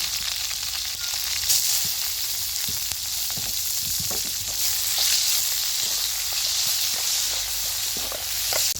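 Onion, curry leaves and mustard seeds frying in hot oil for sambar tempering, giving a steady close sizzle with small crackles and a few utensil stirring taps throughout, with no talk.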